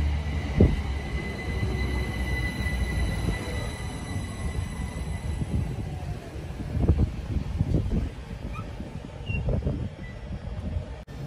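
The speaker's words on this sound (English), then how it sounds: "Departing out now is the 1320 Great Western Railway service from Didcot Parkway to London Paddington" Great Western Railway electric multiple unit, units 387165 and 387155, pulls out of Goring & Streatley station on the Didcot Parkway to London Paddington run, with rolling rumble, wheel squeal and clanks over joints, close and continuous.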